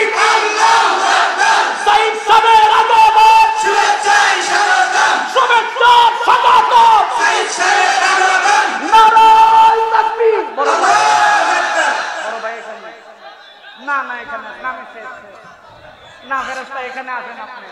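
A large crowd at a fiery Islamic sermon by Mufti Ali Akbar in Sylhet roars a loud, massed chant in unison, then the voices break off and fade into scattered murmurs and a few trailing calls.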